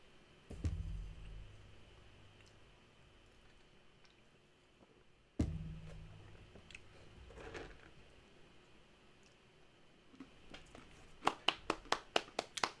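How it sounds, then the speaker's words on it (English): Clapping for Casper: after two isolated thumps, a rapid run of about eight sharp hand claps sounds close and crisp, alone and without talk. "Claps for Casper, guys. Claps for Casper."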